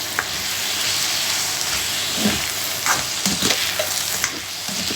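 Yellow and red capsicum stir-fried with noodles in a hot pan, a steady loud sizzle with bursts of stirring scrapes and crackles, no voices.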